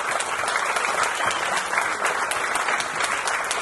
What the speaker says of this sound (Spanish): con las palmas vamos a agradecerles muchísimo,